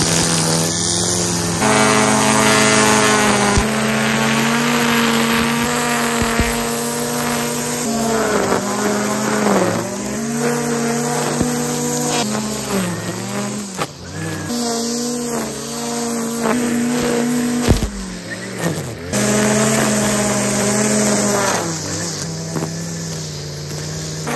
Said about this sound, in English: Now let's just trim some weeds real quick,